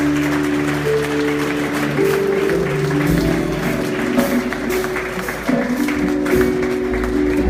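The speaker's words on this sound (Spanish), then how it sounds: "Denle un aplauso al Señor." Congregation clapping during a Spanish-language church service led by a pastor, steady applause over organ or keyboard tones and a low hum, with scattered voices and cheers mixed in.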